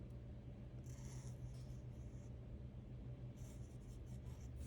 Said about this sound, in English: now I'm gonna draw this one's stem